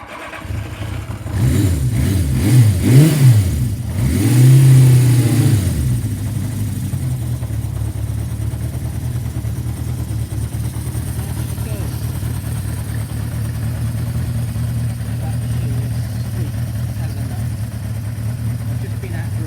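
A restored Benelli 500 Quattro motorcycle engine fires up and revs in a few loud bursts, then settles into a steady, close idle.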